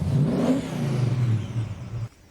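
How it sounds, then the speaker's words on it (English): A muscle car pulls away with a loud, low engine rumble that rises briefly as it accelerates, holds steady, then cuts off abruptly near the end. "This is a muscle car."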